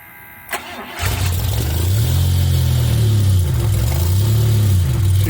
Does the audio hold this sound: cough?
no